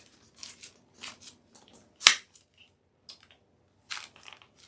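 Scissors cut through deco mesh for a fall pumpkin wreath, a few soft crinkly snips with one sharp crisp cut in the middle, close and quiet, with rustling between.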